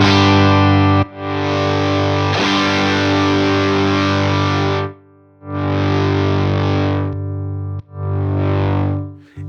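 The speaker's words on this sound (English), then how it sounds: "when you have the overdrive engaged" A guitar played through the overdrive of a UA Enigmatic Dumble-style pedal rings out in loud, sustained distorted chords, separated by short silences and a final shorter strum.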